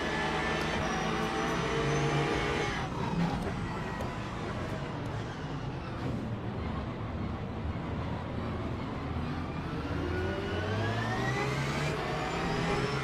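Muffled, dampened engine drone of a Toyota TR010 racing car in Le Mans Ultimate, a steady droning hum with rising and falling pitch as the car accelerates, continuous throughout with no pauses.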